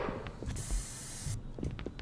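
Aerosol spray can hissing in a steady burst of about a second in the video game Erie, a glowing marker spray, over a dim ambient game background.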